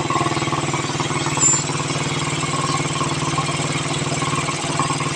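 Suzuki R150 motorcycle engine idling just after being restarted, a steady close rumble with a fast even pulse running throughout, loud and continuous with no talk over it.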